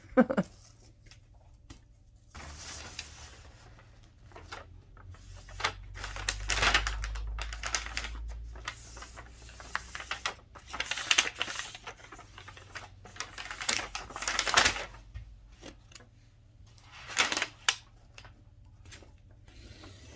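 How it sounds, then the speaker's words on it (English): Tape is pulled and pressed onto the back of a picture frame and paper is sliced with a straight razor, giving close, irregular bursts of ripping, scraping and crisp cutting strokes separated by short pauses. "putting the tape on the back and cutting the paper is super fun"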